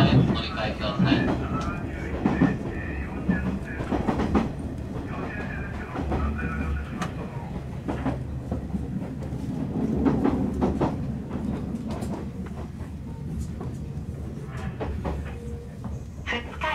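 A Nishitetsu line electric train runs on rails between Yakuin and Nishitetsu Futsukaichi, heard from the driver's cab as a steady rumble with rhythmic clicks and rattles, while a voice talks over it.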